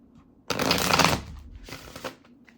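Tarot cards being shuffled by hand: a loud riffling burst of about half a second, then a second shorter riffle, close up with no talk.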